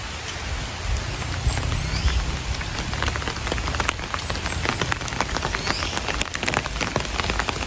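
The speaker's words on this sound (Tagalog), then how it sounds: "Ulan kaayo." Heavy rain pours down steadily and loudly, a dense continuous hiss with close spattering drops on a surface and no voices.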